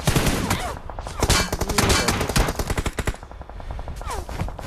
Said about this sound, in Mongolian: Нэг нь буудаад байна.